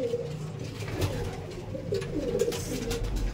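Pigeons in a room where the females are kept coo softly and repeatedly, close by, with several overlapping low calls and faint background noise.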